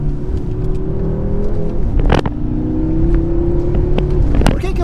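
A BMW M6 Gran Coupe in its most aggressive drive mode revs hard, its engine note climbing in pitch, broken by two sharp bursts at the shifts, loud and close with no talking.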